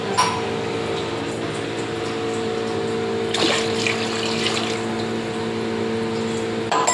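Water streams steadily into a cooking pot while mint rice is being prepared, a continuous close splashing pour with a slight surge partway through.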